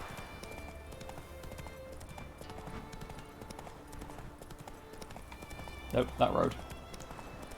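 Hooves of Geralt's horse Roach clip-clop at a steady gait in The Witcher 3, a continuous rhythmic plodding under game music, with someone talking briefly and louder movement near the end.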